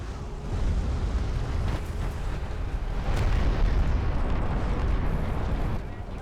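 A missile barrage in a competitive video game match erupts as a dense, continuous roll of loud rumbling explosions, swelling midway, with a voice faintly underneath.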